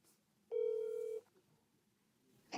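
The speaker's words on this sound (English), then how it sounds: "We've got his number dialed up, and we're going to give him a call" A phone on speakerphone sends out a single steady electronic dialing tone lasting under a second, clear and fairly loud against a quiet room, then a brief faint blip at the end.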